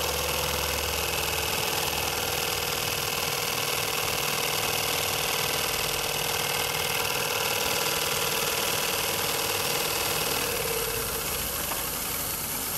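A loud, continuous hiss of steam rushing from a steam traction engine's blowdown valve over a low mechanical rumble, steady throughout and easing slightly near the end.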